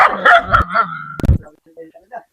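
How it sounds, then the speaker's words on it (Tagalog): A couple of sharp, close dog barks mixed with a person's voice, followed by a few faint yips trailing off. "Dito yung isang dog ni Tay Willie."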